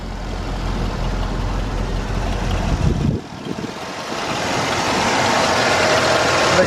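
A 1982 Cadillac Eldorado engine idles with the hood up, giving a steady low rumble and broadband hum. There is a brief dip and shuffle near the middle, and then the idle goes on, rising slightly in level.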